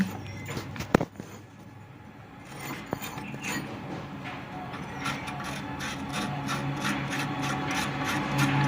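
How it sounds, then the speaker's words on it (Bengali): A wrench loosens and removes bolts on an e-rickshaw differential, starting with a couple of sharp metallic knocks and then a growing, rhythmic ratcheting scrape, close up and without talk. "তো আমরা রেঞ্জতে ঢিলা দিয়ে নিয়েছি নিয়ে আমরা খুলে নিচ্ছি"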